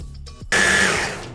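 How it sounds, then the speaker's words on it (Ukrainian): A blender switches on abruptly after a short rustle, whirring loud and steady from close by as it purees a cooked cheese mixture, then easing slightly as it runs. "Знімаємо з вогню та перебиваємо блендером."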